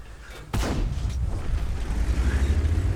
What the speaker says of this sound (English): so I'm going to sit here and shoot at him